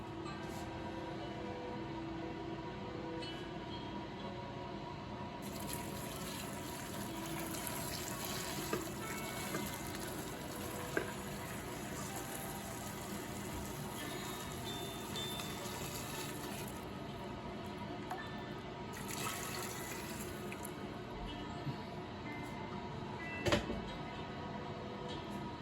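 Hot boiling sugar syrup poured over candy cucumbers in a kitchen, a steady soft liquid wash with brief louder splashes over a continuous background hum.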